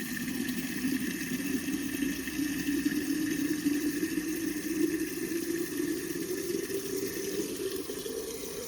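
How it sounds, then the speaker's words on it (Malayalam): Water pours steadily from a Jalanidhi supply pipe, a continuous even rush with no breaks, moderately quiet and close, with no voices. "പൈപ്പിൽ നിന്ന് അവിടുന്ന് നേരിട്ട് വരുന്ന വെള്ളം അത്."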